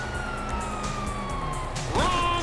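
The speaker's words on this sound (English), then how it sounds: "you hear that? Sirens." Police sirens wail in the Grand Theft Auto V video game, a rising and falling siren tone sweeping steadily through the scene and swelling louder near the end over game background noise.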